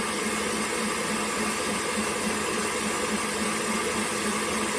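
An electric mixer with a whisk whips no-churn ice cream mix at high speed, giving off a steady, unbroken motor whir with a constant buzzing hum and no talking.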